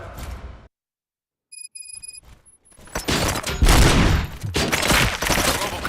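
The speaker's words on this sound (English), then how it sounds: "Gunshots? What's going on?" Bursts of rapid gunfire in the RoboCop: Rogue City video game, loud and dense after a short silence and a few electronic tones, firing continuously for several seconds without talk.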